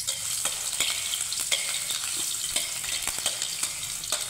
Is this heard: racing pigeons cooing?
no